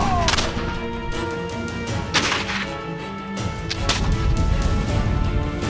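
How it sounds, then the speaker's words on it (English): Black-powder musket and cannon fire in a Texas Revolution battle reenactment at San Jacinto, several sharp cracks over a dense, continuous rumble of distant volleys and battlefield noise. "The 1st Regiment continued their advance under heavy fire."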